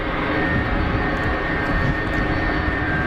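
A small piston aircraft on final approach to Geneva Airport gives a steady, continuous engine drone that stays at an even loudness throughout, fairly close and with no talk over it.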